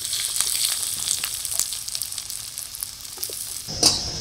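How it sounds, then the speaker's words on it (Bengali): Chopped onion fries in mustard oil in a wok, a steady close sizzle with crackling spits and a brief louder burst near the end, no talk. "আজকে কিন্তু তেলের মধ্যে আর কোনো ফোড়ন দেব না, একবারে সবার প্রথমে দিয়ে দেবো পেঁয়াজ কুচি"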